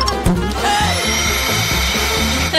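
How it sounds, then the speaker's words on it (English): A vacuum cleaner runs steadily up close, a loud continuous motor whine with fluctuating tones and a few bumps, heard without talk. "This vacuum will eat all the worms fast."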